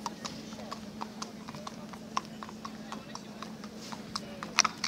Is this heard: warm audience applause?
no